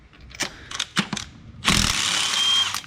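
A ratchet and socket work on the spark plugs of a Chevy Equinox, with several short bursts of close, crisp clicking followed by a louder sustained mechanical rasp.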